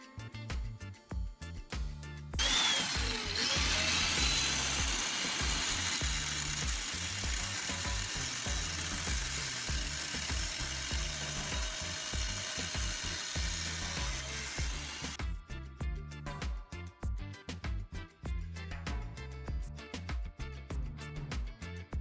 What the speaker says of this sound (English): this time we'll cut along the mark line